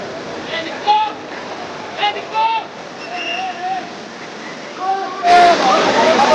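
Kalmandavi waterfall in summer, a constant rush of falling water beneath people talking, with a sudden louder burst of splashing close by near the end.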